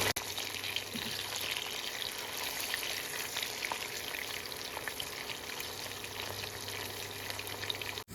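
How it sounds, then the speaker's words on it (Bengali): Pabda fish fry gently in oil with a soft, even hiss that runs steadily with faint crackles and no pauses. "সেম প্রসেসে আবারও সমস্ত মাছগুলো ভেজে নেবো"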